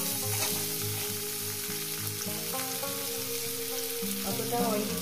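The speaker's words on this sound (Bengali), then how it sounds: "তেলটা আমার গরম হয়ে গেছে, দিয়ে দেবো পেঁয়াজ কুচি" Chopped onions hit hot oil in a pan, giving a loud, continuous sizzle with crackling spatters and occasional stirring, close and steady for the whole stretch, with a faint background hum.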